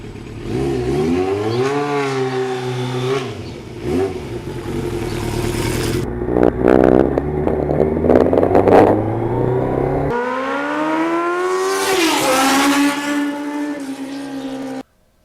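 A 1989 Kawasaki GPX750R motorcycle engine revs loudly and repeatedly, its pitch sweeping up and down through several throttle blips with a steady idle between, close by and alone, cutting off abruptly at the end.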